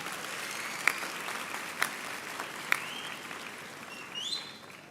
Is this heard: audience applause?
yes